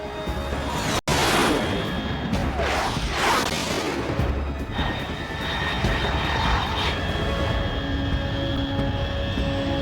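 A fast unidentified aircraft in the Snake Eater video game roars past at high altitude with a loud jet rumble and whooshing sweeps, after a sharp cut near the start.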